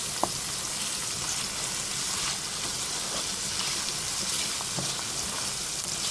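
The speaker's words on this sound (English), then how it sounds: "If your heat is too high, onions are going to burn. And you keep stirring your onions." Onions fry in a pan for split peas rice and saltfish gravy, a continuous soft sizzle and hiss with occasional light clicks of stirring, fairly quiet and steady throughout.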